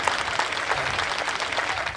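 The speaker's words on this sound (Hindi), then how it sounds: "हम उनके लिए सम्मान की तालियां बजाते हैं" Audience applause at a Hindi comic poetry gathering (hasya kavi sammelan), steady clapping from a crowd that holds at a moderate, even level throughout.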